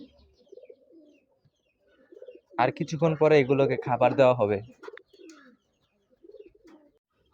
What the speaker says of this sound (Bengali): আর আমাদের কবুতরগুলো ছেড়ে দেওয়া হয়েছে।